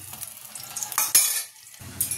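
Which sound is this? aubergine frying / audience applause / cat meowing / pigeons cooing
aubergine frying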